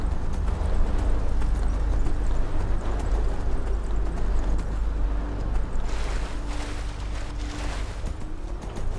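Horse hooves clip-clop steadily in the video game Enderal, set against a constant low rumble of wind and water ambience, with the hoofbeats running throughout at moderate loudness.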